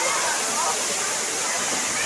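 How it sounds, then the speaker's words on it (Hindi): A waterfall at Kakolat in Nawada, Bihar pours down nearby in a loud, continuous roar of falling and splashing water, with people talking faintly beneath it. "पानी गिर रहा है।"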